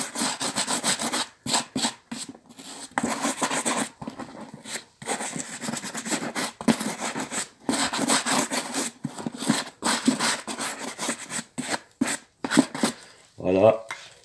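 A leather shoe brushed vigorously and coarsely, seams included, with rapid repeated bristle strokes in bursts separated by short pauses, close and fairly loud, ending with a brief knock.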